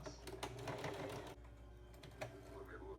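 Sewing machine stitching a seam on satin pyjamas, a quiet rapid mechanical chatter in short bursts with a pause midway, close up and faint.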